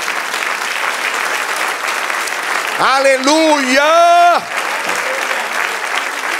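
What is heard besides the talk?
congregation applause in church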